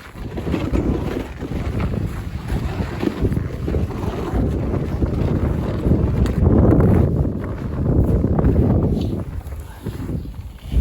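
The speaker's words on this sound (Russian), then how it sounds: "из-за того, что погода такая ветреная будет." Strong wind gusts across a frozen river during winter ice fishing, roaring and buffeting the microphone in uneven surges that swell loudest midway before easing slightly.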